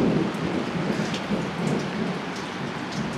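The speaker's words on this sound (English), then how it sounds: "Can you hear the distant thunder?" Steady, fairly loud rain patters on surfaces nearby, with a low rumble of distant thunder beneath it and no voices.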